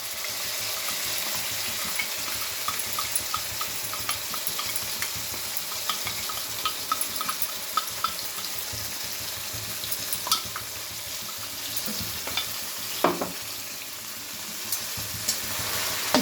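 A ground spice paste drops into hot oil already crackling with cumin seeds and bay leaf, making a steady bright sizzle over about sixteen seconds with scattered pops and a couple of stirring scrapes.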